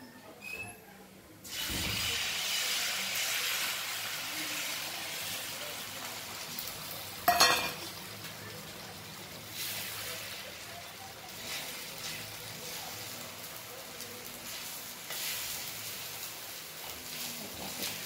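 Dough frying in hot oil in a pan, a steady sizzle with a soft clatter near the start and a brief louder scrape partway through, continuing evenly.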